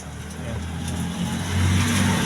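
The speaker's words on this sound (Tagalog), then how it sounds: "So nasa loob ako ng munti naming tricycle." Low, steady engine drone of a small motor tricycle on a rainy afternoon, heard from inside the cabin, with the pitch rising slightly as it revs. The hum stays close and continuous.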